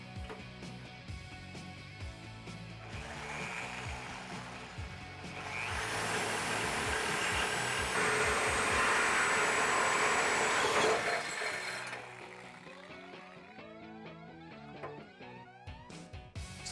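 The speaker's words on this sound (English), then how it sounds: "Now we're just gonna take a die grinder, clean up the edges a little bit" A die grinder cleans up the cut edges of a 2018-2020 Mustang GT exhaust pipe, a harsh whining grind swelling in the middle between lighter clattering and tool handling noises.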